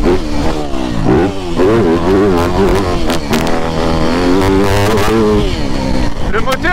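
A 2024 250F four-stroke motocross bike engine revs up and down repeatedly, rising and falling in pitch with a loud, crackling bark, close by and continuous.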